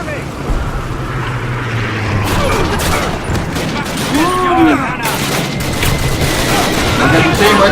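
Gunfire and a grenade blast in a Call of Duty battle, bursts of shots and booms over a busy rumbling background, with a whistling sweep midway.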